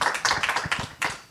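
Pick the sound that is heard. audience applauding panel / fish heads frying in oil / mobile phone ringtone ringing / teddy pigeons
audience applauding panel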